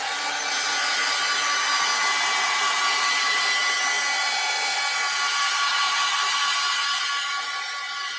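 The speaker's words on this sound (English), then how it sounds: "I'm going to use my heat gun." A heat gun blows steadily and loudly over wet watercolor paint, a constant close hiss and whir lasting several seconds that tapers slightly at the end.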